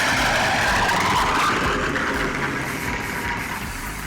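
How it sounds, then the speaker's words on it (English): A damaged Tesla speeding off, its tires skidding and squealing with a harsh scraping roar, loud and sustained, then gradually fading as it pulls away. "it sounds like their car was seriously damaged based on the scraping sound it made while speeding"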